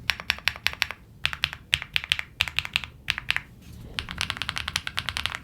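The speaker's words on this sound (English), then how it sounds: "The typing experience is fantastic." Fast, bright clacky keystrokes on a MechLands Blade75 mechanical keyboard with PBT keycaps, typed close up in quick bursts with brief pauses, each press sharp and distinct.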